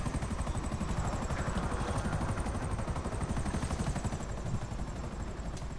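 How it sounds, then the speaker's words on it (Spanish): Helicopters circle overhead in a PS4 video game, their loud rotor chop beating in a steady, unbroken drone throughout with no voices. "Siguen ahí los helicópteros."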